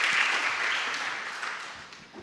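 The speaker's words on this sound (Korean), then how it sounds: "우리 모든 찬양 받아주신 하나님께 영광의 박수 올려드리겠습니다" Dense applause from a church congregation honoring the worship team during a Sunday afternoon service, a steady wash of clapping that slowly thins toward the end.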